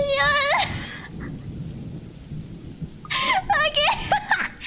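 Heavy rain pours down in a video game, a steady hissing downpour with low rumbling thunder beneath, while a voice speaks loudly over it at the start and end.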